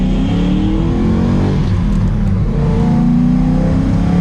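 A 1974 Alfa Romeo Montreal sports car engine revs loudly and close, its droning roar rising and falling in pitch over a few seconds.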